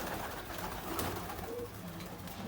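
Pigeons coo softly in low, repeated calls against a quiet outdoor background, moderately near.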